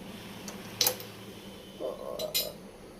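A spoon clinks against dishes a few times in a home kitchen, with a sharp close clink and then a couple of lighter taps and rattles over a quiet background.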